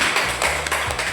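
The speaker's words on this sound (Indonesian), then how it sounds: "tepuk tangan dulu untuk kelompok 2" A short burst of classroom applause for a student group during a microteaching lesson, quick scattered claps from a small group fading after about a second.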